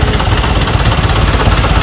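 A truck engine idles steadily at a fish market, a continuous low rumble with a vibrating drone holding level and close throughout, with no talk.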